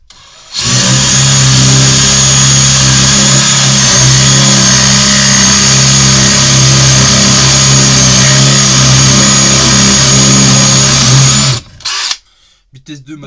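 DeWalt percussion drill running steadily in drilling mode at speed 2, a loud continuous close-up whine for about eleven seconds before it cuts off, followed by a brief clatter.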